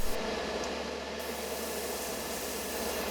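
An airbrush or spray gun lays titanium silver and gold paint onto a Tamiya Toyota Supra model body at low pressure, giving a steady, close, broadband hiss that runs without a break.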